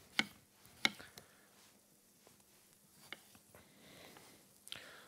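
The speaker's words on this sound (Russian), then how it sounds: "Точно так же я их нарежу. Крупно и грубо." A knife coarsely chopping tomatoes on a board, with two sharp cuts at the start and then a few scattered, softer knocks, quiet and close.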